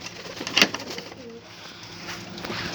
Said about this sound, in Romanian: Da, acum o să filmăm porumbei puțin.